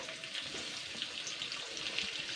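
Chopped onions hitting a hot pan set off a steady, fairly loud hiss and crackle of frying that carries on evenly from start to finish, with no talking.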